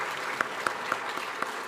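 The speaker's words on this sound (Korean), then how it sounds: "격려의 박수를 한번 보내보면 어떨까요?" Applause of encouragement from a church congregation, soft and fairly distant, with a few sharper claps standing out at an irregular pace.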